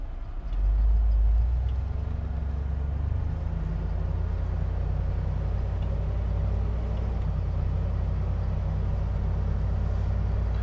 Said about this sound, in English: Let's go into drive and let's see how this thing acts.